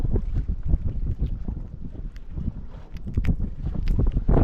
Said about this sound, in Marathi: आज वारा जाम आहे आज हाल होतील आमचं